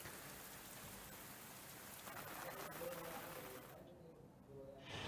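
Pre-monsoon rain pours steadily in Uttar Pradesh, India, a dense, even hiss of falling drops with a faint hint of thunder, thinning briefly near the end before swelling again.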